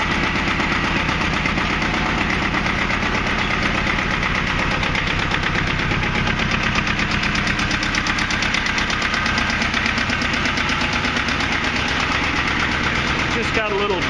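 A small two-cylinder diesel engine in a compact four-wheel-drive tractor runs after a cold start, a loud, close, steady clattering idle with a rapid knocking pulse that continues unbroken throughout.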